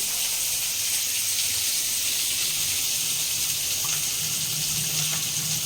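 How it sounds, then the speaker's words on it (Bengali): Broken wheat (dalia) is rinsed under a running kitchen tap, a steady close hiss of flowing water lasting throughout, with no talking. "এই যে ডালিয়াটা ধুচ্ছি"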